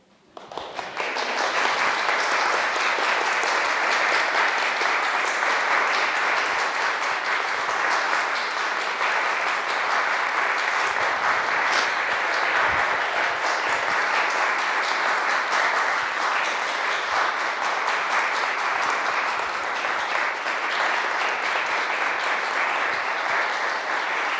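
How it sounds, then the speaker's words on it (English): Loud, sustained audience applause following a poetry reading at a lecture event, a dense even wash of clapping that holds steady for over twenty seconds without talk. "here's the applause for Vassar Miller"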